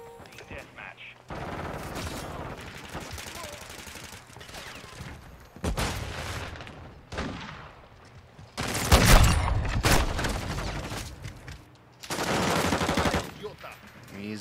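SPR sniper rifle and other gunfire in a Call of Duty match on the Shipment map, with heavy bursts of shots and rapid fire in loud clusters separated by quieter gaps, with talk in the background.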